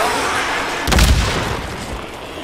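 A grenade goes off in the zombie-horde shooter Days Gone, giving one loud low boom with a short burst of crackle that fades over a couple of seconds against steady game noise.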